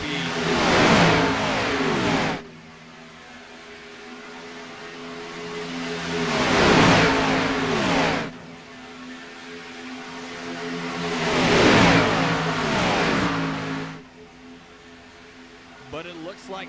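Stock race cars in a Talladega racing game sweep past in three separate waves of rising and falling engine roar, each pass swelling loud then cutting off, with steady lower engine drone between them.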